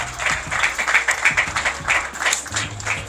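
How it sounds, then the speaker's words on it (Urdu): An audience at a hotel grand reopening in Swat, Pakistan claps and slaps their hands on tables, a dense, busy patter of taps and applause lasting a few seconds. "کچھ دوستوں نے ایک ہاتھ میں موبائل رکھا ہے پکڑا ہوا اور دوسرا ہاتھ ٹیبل پر مار رہے ہیں"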